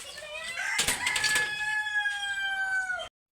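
Chickens cluck and call nearby in a poultry farm, with one drawn-out crowing-like cry held over the flock's scattered noise.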